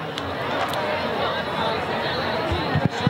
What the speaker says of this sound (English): Another good crowd on hand tonight